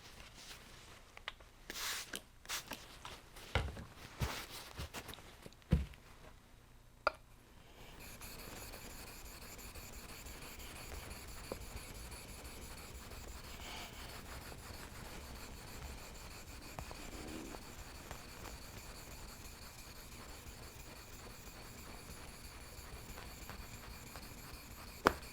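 A chisel is sharpened on an 8000 grit whetstone with a steady, quiet rubbing scrape, preceded by a few irregular handling knocks and shorter strokes.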